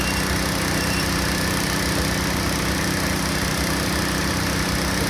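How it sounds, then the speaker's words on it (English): An air blower drones continuously and loudly during an air cushion recovery operation, a steady engine-like roar with no pauses. "you want to turn off the blower or not?"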